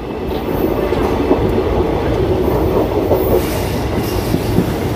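Interior of the Digha special train accelerating out of Kolaghat station, a loud continuous rumble of wheels on rails with rhythmic clatter and occasional faint squeal, no talking.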